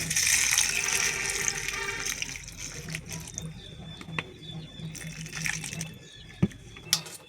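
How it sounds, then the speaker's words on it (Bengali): Water splashes and gushes as it is poured over dal lentils left to soak in a village kitchen, loud at first and then easing into quieter trickles, with a few sharp clinks near the end. "তো আমি জল দিয়ে দিলাম ডালগুলোয়।"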